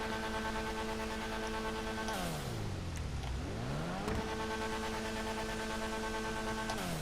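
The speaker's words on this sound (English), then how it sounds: "with the turbo tuning, you can actually hear the spool up" A turbo-tuned Annis Savestra, modelled on the Mazda Savanna, in GTA Online gives a loud, steady engine drone. Its pitch sinks and then climbs back up as the turbo spools, with no talking over it.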